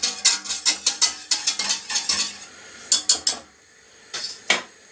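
A metal utensil clatters and scrapes against a pan while stock is stirred in a home kitchen, a rapid run of sharp clinks followed by a pause and a few more scattered knocks.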